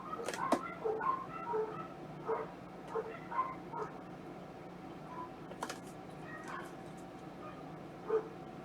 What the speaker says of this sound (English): I hear those dogs in the background